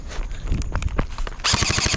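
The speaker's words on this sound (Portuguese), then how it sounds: "O Bia tá atirando lá com a arma então, lá." Gunfire from a shooter video game crackles in quick bursts, with scattered single shots and then a fast automatic volley near the end, sharp and close.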